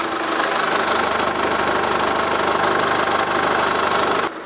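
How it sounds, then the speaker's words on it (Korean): A Chevrolet Orlando's engine idles loudly and steadily up close with the hood open, a low, even rumble with faint knocking, cutting off abruptly at the end. "앞에 가서 엔진 소리 한번 들어보고 마무리하시죠"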